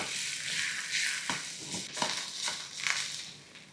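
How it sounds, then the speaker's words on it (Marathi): A potato fasting paratha roasts in ghee on a pan, giving a soft continuous sizzle with occasional scraping and pressing of a spatula against the pan, close and moderately quiet. "याच प्रकारे सगळे पराठे भाजून घेते"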